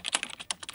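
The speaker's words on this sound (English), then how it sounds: "This is how I type" Hunt and peck typing on a computer keyboard, with about eight sharp key clicks at an uneven, hesitant pace, close and clear and with no talk over them.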